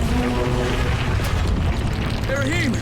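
A deep booming explosion rumble in the video game Dying Light fills the clip, loud and continuous, with game sound effects chirping over it near the end.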